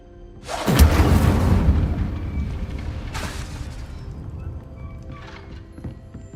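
A fiery Incendio spell blast from the video game Hogwarts Legacy erupts loud and close, a roaring burst that sustains and slowly fades, with a second sharper flare partway through.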